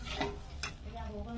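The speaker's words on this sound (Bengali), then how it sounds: "ভালো করে মশলাটাই কষতে হবে।" Masala for a cauliflower curry being stirred in a pan, a spoon scraping and clacking against the metal over a soft continuous sizzle of frying spices, close and moderately loud.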